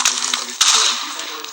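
Small firecrackers snap and crackle close by, a quick burst of sharp pops with two louder cracks near the start and a cluster in the middle over a hissing background.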